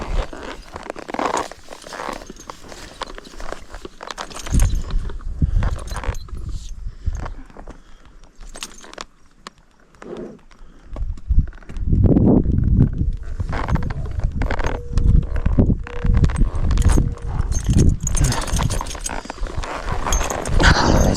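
Hooves of a restless, misbehaving horse thud and clop irregularly on the ground while riders search for missing cows, close and uneven, with rustling and a rider's voice heard intermittently.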